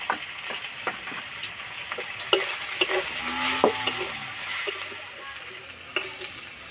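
Ground chili, cumin, turmeric and coriander spices sizzle steadily in oil while being stirred, with scraping clicks and knocks of the spoon against the pan over a continuous frying hiss, close and moderately loud, no talking.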